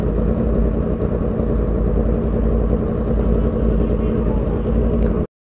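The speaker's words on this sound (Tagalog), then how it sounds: "Sarap talaga ng clutch ng Kawasaki oh." A Kawasaki motorcycle's engine drones steadily and loudly while riding near Tagaytay, a low continuous rumble with wind noise that cuts off abruptly at the end.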